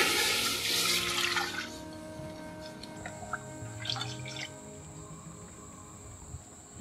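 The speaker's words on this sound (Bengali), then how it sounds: "আমি এই রকমই মগে 2 মগ জল দেব।" Two mugs of water are poured into a cooking pot for khichuri, a splashing gush at the start, then lighter trickles and drips, with a faint high whine in the background.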